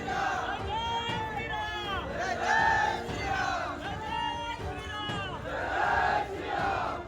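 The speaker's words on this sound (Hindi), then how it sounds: "एक आवाज पर सैकड़ों की भीड़ उमड़ने लगे" A crowd of hundreds in Gujarat raises its voices together in rhythmic, chant-like shouts, loud and sustained, rising and falling in repeated waves.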